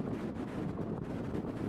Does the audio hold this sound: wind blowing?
yes